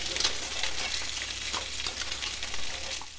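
Fish fillets frying in a hot pan, a dense steady sizzle with light crackles and spits, close and continuous, no voices.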